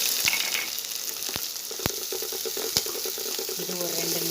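Onions sizzle steadily in hot oil in a pan while a tomato kurma is being made. The frying hiss is close and continuous, broken by a few sharp clinks of stirring, and a faint voice comes in toward the end.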